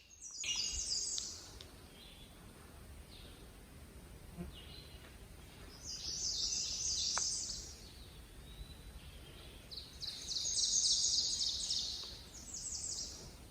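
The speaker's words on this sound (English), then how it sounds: "the birds are just chirping so prettily" Birds chirp and tweet across a green stretch of the Appalachian Trail near Middle Creek, Virginia, with high bright bursts of song rising and fading several times over a soft outdoor hush, some insect buzz mixed in.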